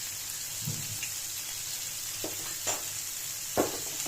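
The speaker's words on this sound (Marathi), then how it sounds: "आपण आता हे सगळे मसाले टाकलेले आहेत मिक्स करू" Mixed vegetables for Makar Sankranti Bhogi bhaji fry in a pan with garam masala, chili powder and turmeric, a steady close sizzle broken by a few distinct scrapes and knocks of stirring, with no talking.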